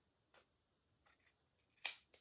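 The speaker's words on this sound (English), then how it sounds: "I'm just going to trim that up so it's easier to see." Scissors trimming fabric for a sewn jacket, with a few quiet, close snips spaced irregularly and no other sound around them.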